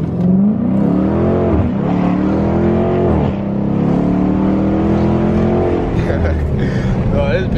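A supercharged SRT8 Dodge Charger Super Bee engine revs loudly and close, rising and falling in sweeping pulls, with voices talking over it.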